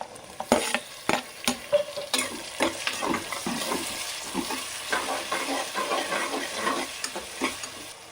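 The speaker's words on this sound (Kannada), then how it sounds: "ನೋಡಿ, ಟೊಮೊಟೊ ಫ್ರೈ ಆಗಿದೆ" Tomatoes and onions frying in a pan for soya pulao, loud close sizzling with repeated sharp scraping stirs and clatters in an irregular rhythm, no voices.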